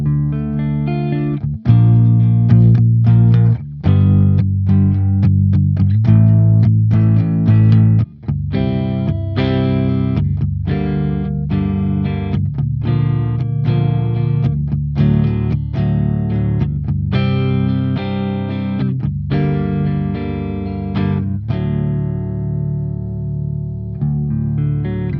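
An Edwards electric guitar played through the clean channel of an EVH 5150 Iconic amp rings out in strummed chords and picked notes, loud and sustained, with a chord left ringing into decay at the end.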